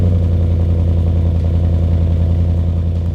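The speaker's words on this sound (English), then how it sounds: "the MBRP really does bring out more of a throaty tone in it" A Ford F-150 with a 5.0L V8 and an MBRP 3-inch single-exit cat-back exhaust idles with a deep, throaty, rumbling burble, steady and close for a few seconds.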